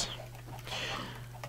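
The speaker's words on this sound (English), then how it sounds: "there's some chickens and there's some pigs right here" Chickens clucking in Minecraft, short game-style fowl calls heard alone over a steady low electrical hum, fairly quiet and close.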